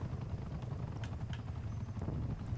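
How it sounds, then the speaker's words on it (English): An enemy helicopter in Call of Duty: Black Ops Cold War gives a steady, low rotor drone that stays constant and moderately faint, with a few light clicks on top. "was that just the enemy helicopter?"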